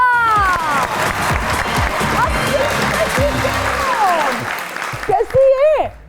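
Studio audience at a talk show bursts into dense applause and cheering to welcome guests Arshad and his daughter Dua, the clapping filling most of the moment before brief voices break in near the end.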